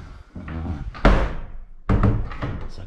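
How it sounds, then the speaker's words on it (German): A door in a building in the Black Forest near Wolfach slams shut with a loud, close thud amid indistinct muffled rustling, followed by another heavy knock or bump a moment later. "Direkt die Tür zugeschlagen."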